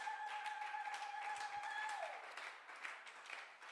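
A church congregation applauds during a prayer service, a steady wash of many hands clapping at a distance, with a sustained tone fading out partway through.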